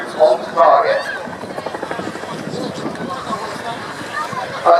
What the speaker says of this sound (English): We'll start the show by seeing the aircraft come up, where we go to rapidly turning background onto the target, trading its speed for height and back again.